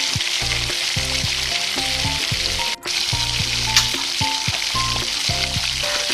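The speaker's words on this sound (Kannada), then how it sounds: "ಗೋಲ್ಡನ್ ಬ್ರೌನ್ ಆಗೋವರೆಗೂ ಹುರಿಯುವ" Chopped onions fry in hot oil in a pan for egg biryani, a loud, steady crackling sizzle close up, with no one talking.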